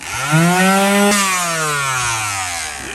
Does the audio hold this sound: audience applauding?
no